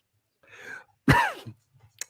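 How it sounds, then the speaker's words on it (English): A single harsh cough bursts out after a brief throaty breath, followed by a short pause and a faint click. "Consumptive cough"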